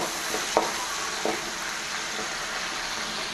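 Chicken meat fries in a pan, a steady dense sizzle throughout with a couple of brief clinks of stirring near the start.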